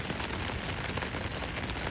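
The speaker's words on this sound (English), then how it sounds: "It's chucking it down with rain" Heavy rain pours down on a campsite along the South West Coast Path, a dense, steady hiss that fills the whole moment without a break.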